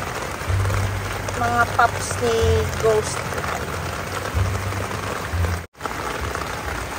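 Rain pouring onto potted succulents, a steady close hiss of drops under someone talking throughout, with a brief dip near the end.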